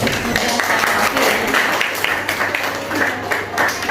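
Applause from a group of teachers fills the room, a steady wash of many hands clapping at moderate loudness for several seconds.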